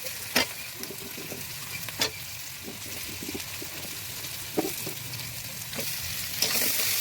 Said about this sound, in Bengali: কড়াইতে পাঁচফোড়ন, পেঁয়াজ, লঙ্কা, প্রথমে আলুগুলো দিয়ে লাল লাল করে ভেজে নেব